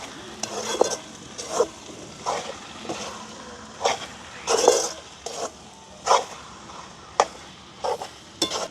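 Stingray pieces frying in a tawa pan, with repeated scraping stirs about once a second over a faint steady sizzle, close and moderately loud.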